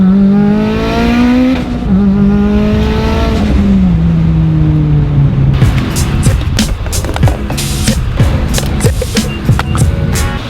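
A loud Mitsubishi Evo X exhaust drones steadily while driving, rising through several gears with shifts, then turning into a harsh, crackling rasp for the last few seconds.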